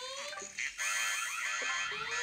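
In a cartoon, a steady electronic alarm tone repeats with a warbling, pulsing pattern, loud and continuous with only a brief dip.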